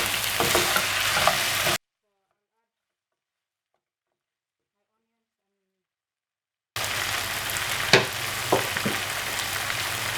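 Meat and potatoes fry in a covered pan with a steady close sizzle. The sizzle cuts out into several seconds of silence, then returns with a few brief knocks.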